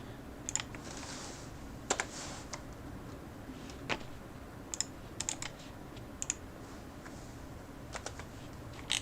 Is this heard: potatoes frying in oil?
no